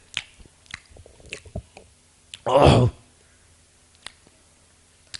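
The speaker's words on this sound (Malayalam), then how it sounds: "എന്നിട്ട് ആ മാങ്ങ ഇങ്ങനെ കടിച്ചിട്ട്" Someone bites into a ripe mango and chews it, making soft, irregular wet clicks and smacks close by. A short burst of voice comes in the middle.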